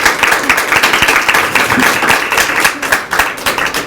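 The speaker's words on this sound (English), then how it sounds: "Let's give them a round of applause." A roomful of people breaks into applause at a patient-voice presentation, brisk overlapping hand claps, close and loud, holding steady for several seconds.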